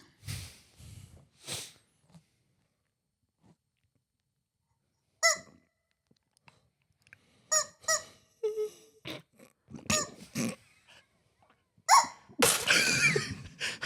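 A person imitates a hen with short, separate nasal squawks and clucks, scattered across the stretch with silent gaps and ending in a denser run of bursts.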